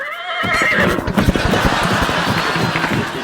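A horse neighing sound effect plays on a comedy TV show: a loud, shrill whinny opens, then fades into rapid hoofbeats and a busy studio murmur, close and prominent.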